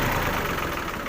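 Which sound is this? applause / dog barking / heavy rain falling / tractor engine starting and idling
tractor engine starting and idling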